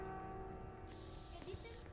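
Pepper spray fired in the horror video game Granny, a sudden bright hiss that bursts in and sustains for about a second over a low, steady game background.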